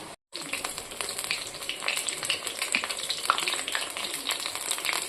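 Raw banana pakoras fry in hot oil with a steady, close sizzle dotted with sharp crackles and pops, after a brief silent gap at the start; nobody speaks.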